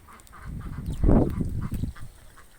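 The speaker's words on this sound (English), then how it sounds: "So that's all my chooks and ducks." Farm geese and ducks honk and quack in a short clustered burst, the calls swelling loudest in the middle and then fading back to softer scattered cackles nearby.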